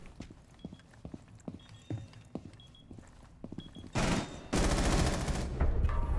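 A video game gun fires with noticeable recoil: scattered single shots and clicks give way to long, loud bursts of rapid automatic fire in the second half.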